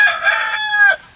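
A rooster crows among the flock of a small backyard chicken operation, one long drawn-out cock-a-doodle-doo, loud and close, with faint clucking beneath and no talk.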